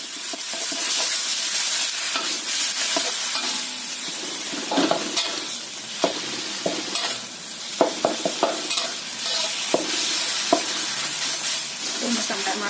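Minced chicken is stir-fried in a hot pan, with a constant loud sizzle and hiss broken by repeated sharp scrapes and clinks of the spatula, and no talking.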